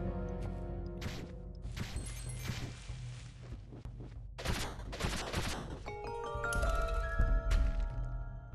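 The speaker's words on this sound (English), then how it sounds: "use a spin attack and then use Getty's pistol to finish the enemy off" Pistol shots in the video game Owlboy ring out as rapid volleys of sharp cracks amid bursts of game effects and a musical backing, busy and dense throughout.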